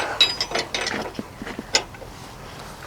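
A wrench works loose the set nut on a Cimarron fifth-wheel king pin. A few close metallic clicks and ratcheting ticks come in an uneven series, with light knocks of metal on metal, fairly quiet and with no voices.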